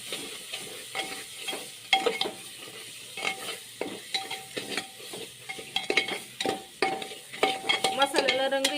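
Turmeric and biryani masala spices for egg biryani being sautéed in a pan, with a light continuous sizzle and frequent close, rhythmic stirring scrapes and clinks of a utensil against the pan, growing busier toward the end.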